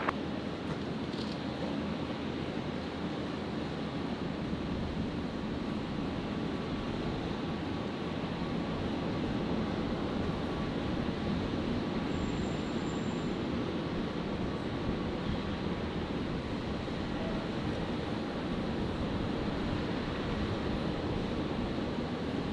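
A Qantas airliner takes off from runway 01 right at Brisbane airport, heard as a steady broadband engine roar that holds for over twenty seconds, distant and uniform, with no distinct peaks.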